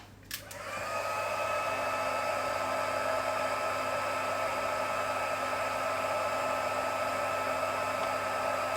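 A click, then a heat gun whirs up and blows a steady, loud hiss close by while it melts white embossing powder on a card, holding a constant tone to the end.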